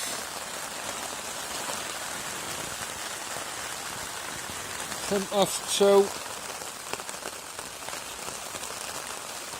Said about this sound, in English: It's absolutely hammering down again.